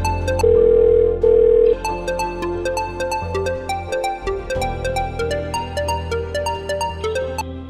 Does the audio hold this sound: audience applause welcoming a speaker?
no